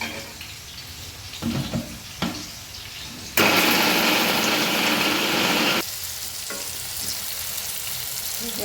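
A kitchen mixer grinder blends garlic, red chili powder and spices for a coconut chili mix in one loud, steady whirring burst of about two and a half seconds, with quieter kitchen sounds before and after.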